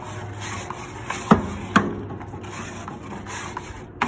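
A metal scraper worked across a grill surface, steady scraping and rubbing with a couple of sharp knocks and clanks mixed in, close and moderately loud, no talking.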